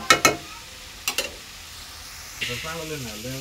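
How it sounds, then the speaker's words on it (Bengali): Cauliflower fries in a pan with other ingredients, giving short crackling bursts of sizzle and stirring near the start, then a softer steady sizzle with a voice speaking over it at the end. "এই যে ফুলকপি ভাজি করতেছি, সব কিছু দিয়ে দিলাম।"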